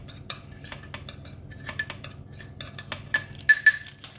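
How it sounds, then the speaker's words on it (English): A spoon stirs cinnamon into demerara sugar in a bowl, making a run of light clinks and scrapes against the sides with a few sharper taps near the end, close and fairly quiet with no talking. "Just gonna give this a stir and mix the cinnamon with the sugar."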